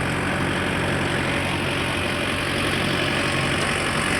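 A tractor engine runs steadily and close by while a Gomathi 42-blade rotavator mulches a drumstick field, giving a constant low, rumbling drone with no pauses.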